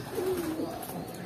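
A visiting pigeon at a loft gives a single soft, short coo, fairly close and quiet against a low background hum.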